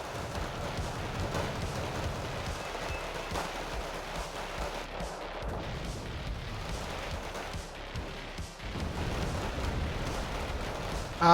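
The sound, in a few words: grenade launcher explosions in Wargame Red Dragon video game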